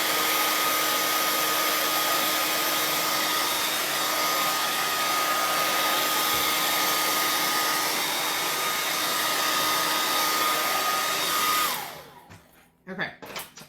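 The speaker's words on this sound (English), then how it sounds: "I'm going to blow dry my gray just a little bit." Hair dryer blowing on gray paint on a wooden door hanger, a loud steady whooshing drone held close for about twelve seconds before switching off, followed by a few faint handling knocks.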